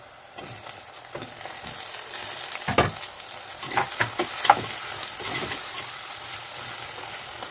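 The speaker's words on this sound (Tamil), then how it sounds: "தக்காளி நல்லா வதங்கிட்டோம்" Tomatoes and onions sauté in a pan for a tamarind curry with drumstick and potato, giving a steady close sizzle broken by several louder stirring scrapes and clatters.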